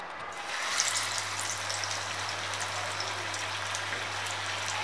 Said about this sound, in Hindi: अब हम गैस का फ्लेम मीडियम कर देंगे, और एक एक करके अपनी कढ़ाई में पीस डालना स्टार्ट करेंगे